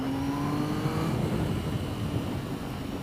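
A Triumph Speed Triple S motorcycle pulls hard under acceleration, with a steady, rumbling engine drone and a faint rising tone, heard with continuous wind and road noise.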